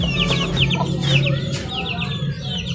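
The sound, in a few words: Vietnamese black chickens clucking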